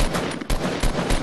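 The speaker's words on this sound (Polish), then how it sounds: "Jak słyszycie te strzały, to się tu naparzają." Rapid gunfire from the video game Fortnite, bursts of sharp shots in quick succession, loud and close with no talk over them.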